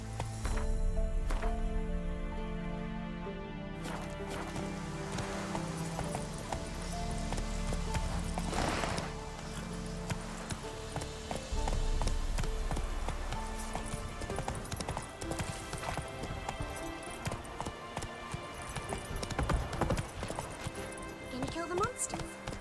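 Horse galloping in The Witcher 3, a fast steady drumming of hooves over a loud game soundtrack and ambience, with a brief whinny and character voices talking over part of it.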